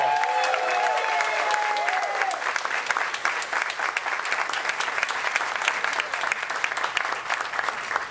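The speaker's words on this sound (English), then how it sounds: "Let's give him a round of applause." Audience applauding at an indoor community ceremony in Washington, D.C., a steady sustained clapping from a sizeable crowd lasting several seconds, with a few voices briefly audible at the start.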